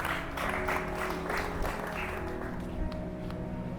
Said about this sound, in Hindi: तालियां बजाओ परमेश्वर के लिए, यीशु के लिए